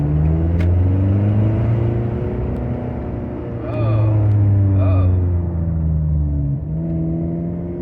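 Engine of a cheap $50 car being driven, a loud, rough, tractor-like rumble that swells as the throttle rises and sags when it is released, close and steady throughout.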